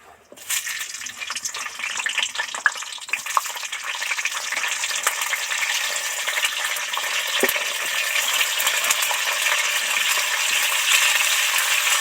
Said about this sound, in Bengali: তেল তো গরম হয়ে গেছে এবার ফুলকপিগুলো তেলের মধ্যে উঠিয়ে দেবো